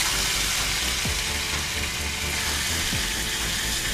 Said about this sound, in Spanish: hay que sellar la carne